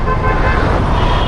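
Dense city traffic surrounds a rider on a new Suzuki Access 125, with a loud, close wash of engines and road noise and a horn tooting through the din.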